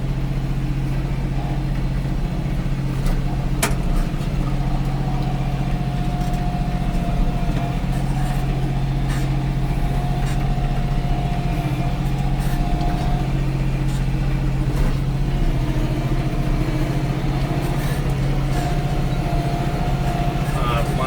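The engine of a machine grading dirt at a half-acre pond under construction gives a steady, mid-pitched drone close by, running continuously without a break.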